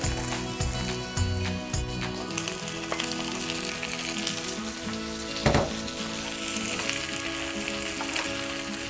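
Onions frying in a pan for a stir-fried onion and egg dish, a steady close sizzle with occasional sharper crackles and pops, alone with no talk.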